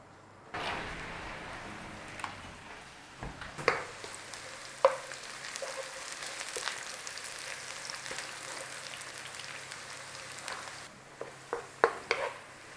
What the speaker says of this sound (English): So let's have a little bit of oil in there. 10 to 12 minutes to actually cook those onions.